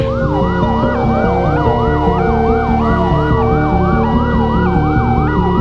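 A loud emergency vehicle siren, like a fire truck or ambulance, wails up and down in a fast, repeating pattern over a steady engine rumble, close and continuous with no voices.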